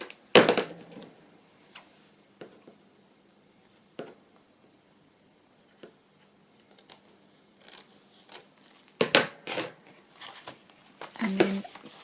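Scissors snip along the frayed edge of a torn paper strip: a few crisp cuts near the start and a cluster of close, clear snips toward the end, with quiet rustling between.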